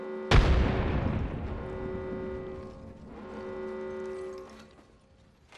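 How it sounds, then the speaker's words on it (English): A frag grenade detonates in Apex Legends with one sharp, loud boom that rolls into a long fading rumble and ringing tail over several seconds. "frag grenade set."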